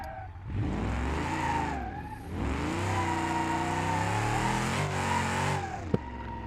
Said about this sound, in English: it's time to go do burnouts